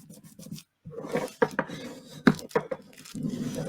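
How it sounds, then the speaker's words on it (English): A bone folder scrapes across a glued paper file folder in a series of short, close rasping strokes with brief pauses between them. "Take out bone folders, scrape it across there"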